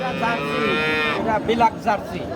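A Holstein Friesian cross dairy cow, a two-toothed Jersey-Friesian mix, lets out one loud, close moo lasting about a second, followed by shorter grunting lows amid the bustle of a busy cattle market.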